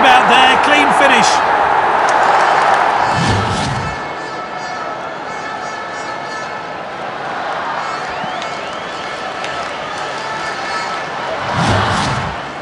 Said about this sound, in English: the crowd are well behind their team now